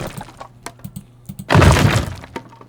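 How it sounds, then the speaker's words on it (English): A tower collapses in the game Towers vs Monsters with a loud crashing, crumbling burst lasting about half a second, set between scattered clicks and small knocks. "when I pick this tower I will hear the tower falling"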